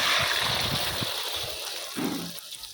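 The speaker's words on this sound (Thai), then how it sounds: "พอน้ำมันร้อนได้ที่เราก็เทไข่ลงไปเลย" Beaten egg hits hot oil in a frying pan for a Thai omelette, a close, loud sizzle and gush with soft bumps from the pan underneath.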